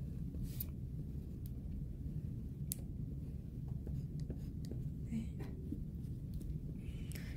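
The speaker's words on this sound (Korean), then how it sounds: "그래서 제가 좀 어긋나게 그려볼게요." Pencil sketching on paper while drawing an asymmetrical cubist cake stand, a steady soft scratching that runs throughout, close and quiet, with no talking.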